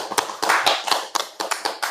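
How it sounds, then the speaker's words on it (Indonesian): A small audience at a forum on preventing and prosecuting regional election violations in Lumajang claps for two speakers, producing a steady run of scattered, overlapping hand claps at close range with no talk. "Beri tepuk tangan buat kedua narasumber kita."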